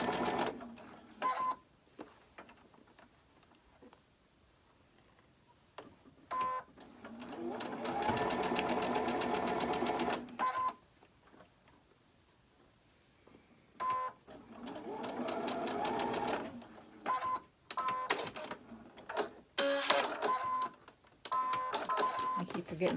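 A sewing machine stitches a seam on a quilt block in several bursts of steady, rapid whirring, stopping and starting, with a person talking in the pauses between runs.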